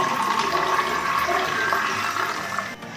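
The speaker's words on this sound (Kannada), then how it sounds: "ಈಗ ಹಾಲನ್ನ ಗ್ಲಾಸಿಗೆ ಹಾಕೊಳ್ತಾ ಇದ್ದೀನಿ" Milk pouring into a glass, a steady liquid stream heard close and fairly quiet throughout, with no talking.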